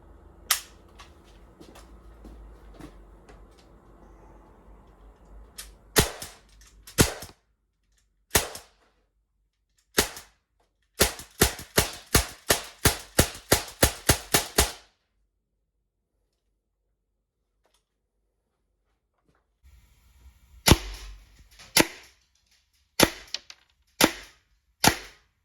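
A Sig Sauer MPX ASP semi-automatic CO2 air rifle fires pellets into a phone book and sheet metal: sharp cracking shots, first spaced singly, then a rapid string of about ten, later a few more, loud and close.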